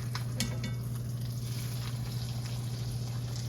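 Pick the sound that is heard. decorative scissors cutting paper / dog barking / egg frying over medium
egg frying over medium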